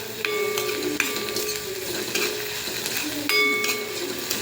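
Ginger garlic paste sautés in a pan for a gravy-style okra dish, with a soft continuous sizzle punctuated by several sharp metallic scrapes and clinks of a spoon against the pan.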